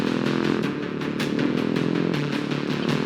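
A motorcycle rides slowly past, its engine putting out a loud, steady rumble with a rough, clattering texture that holds for the whole stretch.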